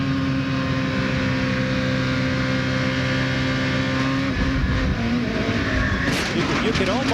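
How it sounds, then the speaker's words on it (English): A NASCAR Craftsman Truck races at Kentucky Speedway with a loud, sustained engine drone, then revs up sharply as the rear breaks loose late in the run, with commentators talking throughout. "You could almost hear the engine rev up just as in the back broke loose."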